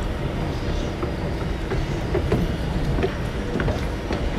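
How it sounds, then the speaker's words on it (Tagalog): A commuter train pulls away from a busy rush-hour station platform in Malaysia, giving a steady close rumble of wheels and carriages with light clicks and rattles throughout. "Actually yung train nakaalis na."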